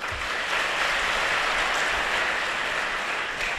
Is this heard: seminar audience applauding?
yes